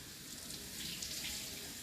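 Tap water runs steadily onto a cutting board in a kitchen while jerky is prepared, a soft, continuous hiss close by with no talking.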